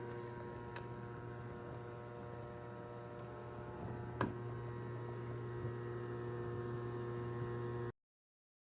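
A Lomi countertop composter runs steadily while drying and mixing, giving a low, even electrical hum with a faint whirr on top and one brief soft tick partway through. It is quiet, close and alone, with no talking.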